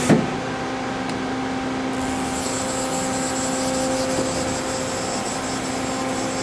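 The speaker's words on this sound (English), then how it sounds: "Let's move the turret." Turret of a Daewoo Puma 230MSC CNC turning center moving, a steady whirring machine drone with a sustained tonal hum and a brief click near the start, close and continuous.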